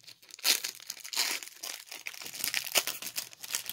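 Foil wrapper of a 1994 Fleer trading card pack being ripped open by hand, a close, loud run of crinkling and tearing bursts that rises and falls over a few seconds with no talk.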